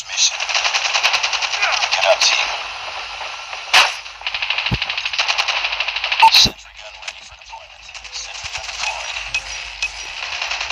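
A turret in Call of Duty Mobile fires long, rapid bursts of automatic gunfire, with a couple of sharp, louder single shots between bursts and quieter, patchier firing toward the end.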